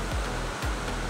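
Kambugaye Falls, a multi-level waterfall on Siquijor island, pours in a steady, broadband rush of water, close and continuous with slight surges, no voices present.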